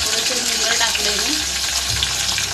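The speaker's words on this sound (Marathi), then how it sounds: "बघा आता मी डाळीला फोडणी देणार आहे." Garlic, mustard seeds and curry leaves sizzle and crackle in hot oil as a tempering for dal, a continuous bright frying hiss with light stirring, no talking over it.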